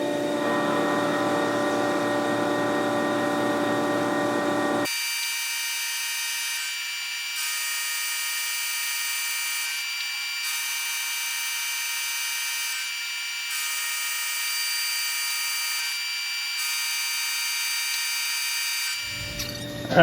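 A Tormach 1100MX CNC mill face cuts a part, giving a steady high-pitched whine with bright tonal harmonics, broken by brief regular dips as the cutter passes, with lower workshop noise at the start.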